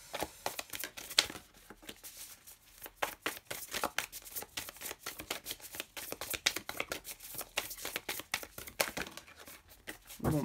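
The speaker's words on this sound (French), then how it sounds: "je prends la dernière carte" A tarot card is drawn from a deck, with soft, close papery shuffling, crinkling and flicking sounds in quick irregular bursts, faint throughout.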